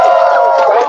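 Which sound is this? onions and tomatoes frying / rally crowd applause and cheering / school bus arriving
rally crowd applause and cheering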